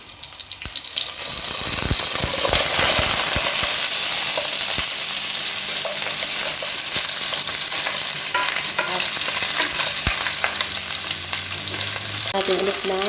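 Chicken feet sizzle and fry in a pan for adobo, with repeated scraping stir strokes and clattering over a steady loud hiss, plus a brief splash of liquid near the end.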